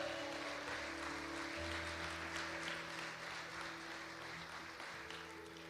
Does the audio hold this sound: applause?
yes